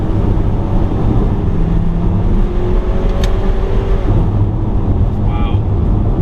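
A 2020 Ford Escape Titanium with EcoBoost engine being manually shifted on a road in Mexico, steady loud engine drone and road rumble with wind noise from inside the cabin, while a voice talks over it.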